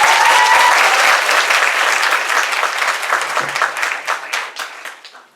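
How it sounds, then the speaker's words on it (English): A crowd at a university culture night skit breaks into loud, sustained applause that thins toward the end into scattered claps before fading out. "please give a round of applause for B."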